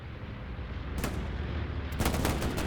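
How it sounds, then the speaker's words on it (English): An Allied bombing run strikes during a winter battle in the console shooter Hell Let Loose, with heavy, rumbling blasts and sharp bursts coming in a couple of loud waves over a deep, continuous battlefield roar. "this is going to be an Allied bombing run"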